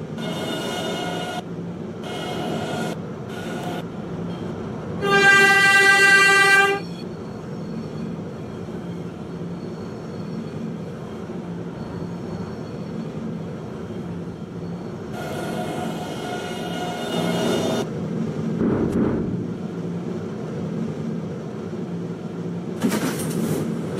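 An express train in Roblox PTA runs with a steady rolling rumble. A bright tonal horn-like blast and several hissing, screeching bursts of wheels or brakes cut through, with no one speaking.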